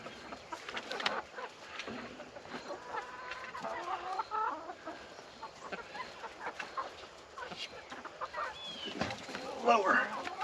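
Chickens clucking and squawking in a backyard coop, frequent close calls scattered across a low outdoor background, with people talking intermittently nearby.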